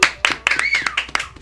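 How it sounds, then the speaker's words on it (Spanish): Quick bursts of hand clapping from a small group at a Spanish-language TV series review show, uneven sharp slaps close by, mixed with shouting voices. "¡Un aplauso, cabrón!"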